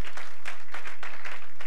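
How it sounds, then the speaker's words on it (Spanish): Church congregation applauding at a Bible study, a dense continuous patter of many hands, steady and fairly loud throughout. "Mándale un aplauso al Señor por él."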